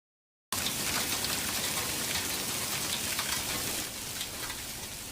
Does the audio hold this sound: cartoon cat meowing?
no